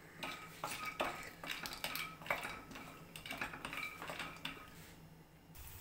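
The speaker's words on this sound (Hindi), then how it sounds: "अब हम इसमें सबसे पहले डालेंगे अपने काजू और इन्हें थोड़ा सा तल लेंगे।" Cashews going into hot oil in a pan for a puffed-rice namkeen, giving a dense, continuous close sizzle and crackle mixed with light metallic clinks of a spoon against the vessel, with no voices.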